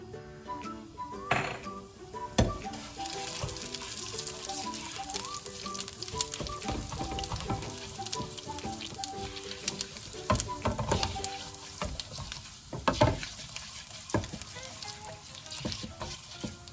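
Cumin and fennel seeds frying in hot ghee produce a continuous soft sizzle with scattered crackles and a few louder stirring scrapes, heard close and alone.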